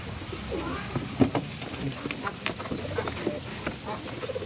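Pigeons coo nearby in soft, repeated throaty calls, mixed with rustling and other low noises, while someone talks over them.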